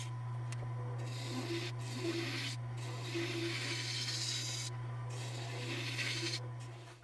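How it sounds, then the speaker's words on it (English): Sandpaper rubbed over a carved wooden knife handle in quick, rhythmic back-and-forth strokes, soft and close over a steady low background hum. "I'm going to sand this handle real quick"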